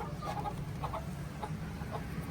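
Chickens clucking softly near a new chicken coop, with scattered short clucks over steady background noise, faint and somewhat distant, with no talking.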